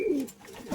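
Pigeons, a male and a female, freed from a cage give short, close cooing calls, one soft coo followed by another near the end.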